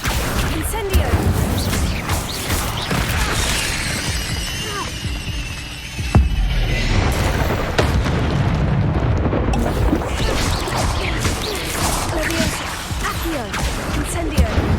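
An Incendio fire spell in Hogwarts Legacy bursts with loud, crashing blasts amid constant game combat noise in the Forbidden Forest, and voices speak over the fight.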